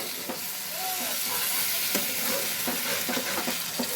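Duck egg curry masala frying in oil in a pan, giving a steady, close sizzle with occasional scraping and tapping from stirring throughout; no one speaks.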